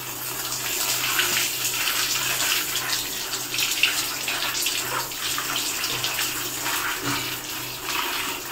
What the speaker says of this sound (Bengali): ধুয়ে নিচ্ছি ভালো করে